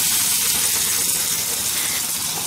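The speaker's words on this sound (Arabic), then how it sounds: "حطيت عصير الطماطم بتاعي اهوت" Fresh, unstrained tomato juice pours into a pot while making tripe and offal in red sauce, giving a continuous gushing, sizzling wash of sound that stays loud and steady throughout with no talking.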